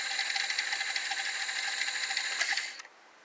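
The tape mechanism of an Emerson VCR700 VCR from the 1980s runs with a steady whirring, ticking drone, close and fairly loud, then cuts off abruptly near the end.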